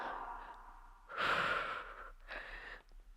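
A forceful exhale during a Pilates leg exercise, a broad breathy rush that swells, fades, then returns as a second shorter breath, close and alone without talk.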